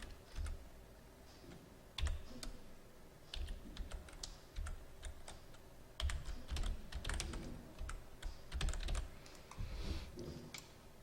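Typing on a computer keyboard while entering data in an Excel spreadsheet: irregular clusters of soft, close key clicks and taps with short pauses between bursts, fairly quiet and without talking.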